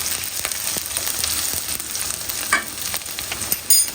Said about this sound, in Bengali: এখন আমি হচ্ছে পেঁয়াজ মরিচ এগুলো দিয়ে দিব